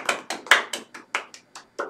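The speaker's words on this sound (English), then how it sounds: "Applause. Applause for Ritika. Everyone." A Class 10 physics class applauds a student with a short burst of about eight distinct, sharp hand claps at a quick, slightly uneven pace, close and clear with no talking.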